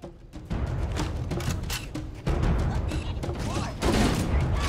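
Gunfire in the Halo: Combat Evolved video game, dense rapid bursts of shots and booming impacts in a busy firefight, loud and nearly continuous, with spoken commentary woven through.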